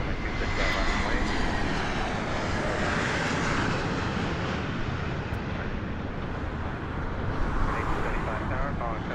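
A jet airliner taking off at Harry Reid International Airport in Las Vegas, a loud continuous engine roar that holds steady throughout while air traffic control radio talk runs over it.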